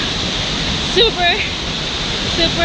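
Nungnung Waterfall in Bali roars as a steady, loud wash of falling water that fills the scene, while a person speaks briefly over it.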